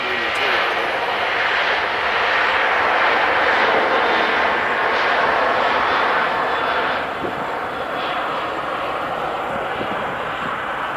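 A JetBlue airliner rumbles at Nashville International Airport, a loud, sustained jet engine roar with broad whooshing texture that eases slightly toward the end, heard from an outdoor spotting position.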